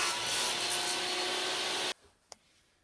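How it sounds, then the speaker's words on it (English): A hand saw cuts through a wooden pen blank in a continuous, loud rasping stroke for about two seconds, then stops abruptly, followed by a faint knock and a short click. "And then I'm going to cut the blank in half here."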